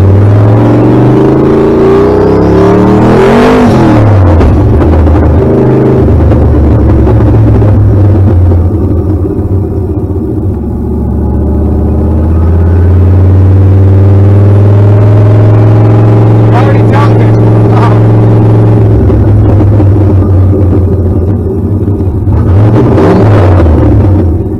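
A 1990 Ford Mustang with an On3 turbo making about 700 horsepower revs loudly and drones up close, with a deep, steady exhaust roar that swells and falls over several throttle changes.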